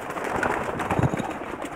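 Racing pigeons coo on a rooftop loft, soft throaty murmurs rising and falling close by over a busy background of many birds.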